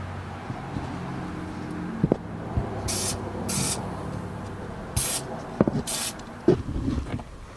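Aerosol grease lubricant sprayed onto a trailer's suspension in four short hissing bursts, spaced apart and close by, with scraping and handling noises in between.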